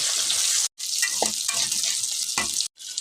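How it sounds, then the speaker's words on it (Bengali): Boiled potatoes dropped into hot oil with bay leaves and whole white cumin, a loud steady sizzle and crackle broken by two brief gaps, with no talk. "এখন এর উপরে আমি দিয়ে দেবো সেদ্ধ করে রাখা কয়েকটা আলু।"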